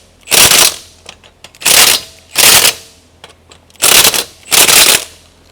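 Pneumatic impact gun with a torque stick running full bore, five loud, separate bursts of rapid hammering, each about half a second, with short quiet gaps between them.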